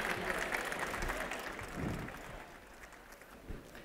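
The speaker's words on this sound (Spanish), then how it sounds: "Pido un aplauso para él, ahora sí," An audience at a ceremony for architecture graduates applauds in a soft, distant patter of many hands that tapers off over a few seconds.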